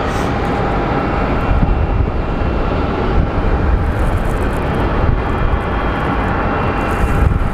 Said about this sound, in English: SkyWest 3075 coming in from Oklahoma City is almost here.